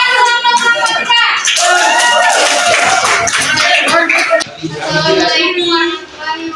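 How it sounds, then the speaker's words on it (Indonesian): Applause in a school classroom for a student group about to present, a burst of clapping hands mixed with loud children's voices and chatter, fading briefly before picking up again. "Tepuk tangan untuk kelompok 3."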